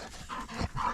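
A dog panting outdoors in the mountains, quick rhythmic breaths close by, soft and steady over about a second with no talking.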